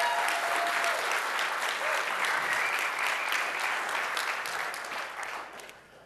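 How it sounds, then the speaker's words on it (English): An audience at a programming conference talk applauds the organizers, a dense, sustained burst of clapping that fades out toward the end. "Could I get a round of applause for the organizers for putting this together?"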